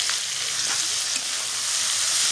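Onion and capsicum frying for chilli paneer give off a loud, continuous hissing sizzle in hot oil. It stays dense and even throughout, with a few faint stirring scrapes and no voices.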